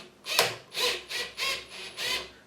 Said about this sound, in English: I use my cordless drill to screw in the bolt